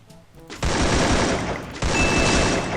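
Gunfire in the game Free Fire, two loud bursts of rapid automatic shots close up, the first starting just after half a second and the second around 1.8 seconds, with a thin high ringing tone over the second burst.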